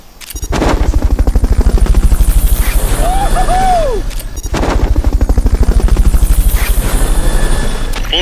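Steady rotor thumping of a helicopter in a video game drones loudly throughout, with a brief rising whine in the middle and a short break partway through.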